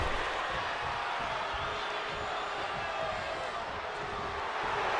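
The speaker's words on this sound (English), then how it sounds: "The crowd is fully behind Io, and she knows it" An arena crowd roars in the WWE 2K24 wrestling game during a women's battle royal, a dense, steady wash of cheering and crowd noise at constant level, with rapid thudding impacts underneath.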